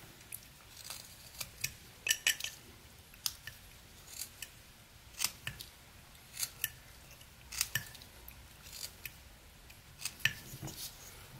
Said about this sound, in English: just kind of start scooping out a little wood